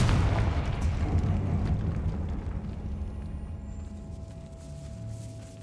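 The Confringo fire spell explodes in the video game Hogwarts Legacy as a heavy, booming blast that starts loud and then rumbles away slowly over several seconds.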